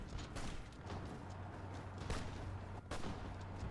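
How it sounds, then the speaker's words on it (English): Gunfire from a Hearts of Iron IV strategy game with the Old World Blues mod: dense volleys of sharp shots crack out repeatedly over a constant background rumble, loud and busy throughout. "Yeah, it's so powerful, the like gunshots and such."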